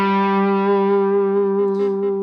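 Distorted electric guitar plays a slow blues lick in the minor pentatonic, with a single sustained, ringing note held close and loud with slight wavering.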